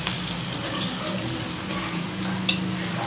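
Small soya chunk bondas frying in hot oil, a moderate bubbling sizzle with a few sharp pops and spatters scattered through.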